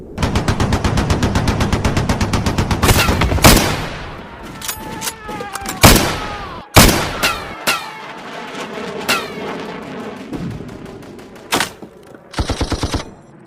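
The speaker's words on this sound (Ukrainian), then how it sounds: "Там кулемет" Rapid machine gun bursts rattle in a Lego brick film battle scene set at the Arsenal in Kyiv in 1918, with long loud volleys at first, then scattered single shots and short bursts, some echoing, ending in another fast burst.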